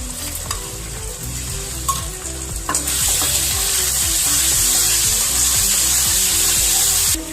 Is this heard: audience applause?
no